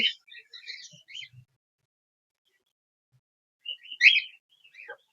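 Semi-adult and adult cockatiels chirp at close range in two short clusters of bright, high tweets separated by a few seconds of near silence.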